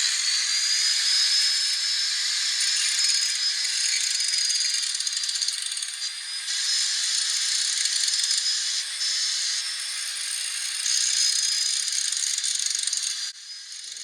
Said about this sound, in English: So this grinder has like the small disc. It's an old Makita.